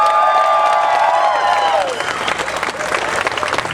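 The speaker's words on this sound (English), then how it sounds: "give them a round of applause first before they do it" A crowd at a street fair opening ceremony applauds loudly outdoors, with dense clapping and a few cheers, while a sustained tone fades out partway through.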